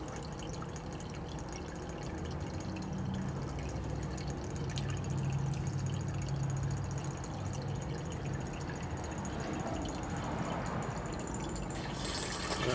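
Diesel flows through a half-inch siphon hose from a hand drum pump into a container outdoors, a steady liquid trickle with light dripping and gurgling that holds for several seconds and swells slightly near the end.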